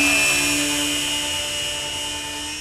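A Compass Atom 500 electric RC helicopter climbs out at full throttle. Its loud, steady high-pitched rotor and motor whine stays close and fades slightly as it rises.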